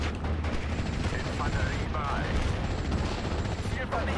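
Infantry gun shells striking an enemy mortar position in the Normandy 1944 strategy game Steel Division: Normandy 44, heard as dense, continuous bursts of distant gunfire and explosions rumbling under a steady battlefield din.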